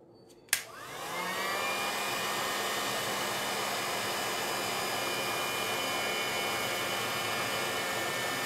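A heat gun blowing on embossing powder during a mixed media panel craft, starting with a sharp click and then a loud, steady rushing whoosh that holds unbroken to the end.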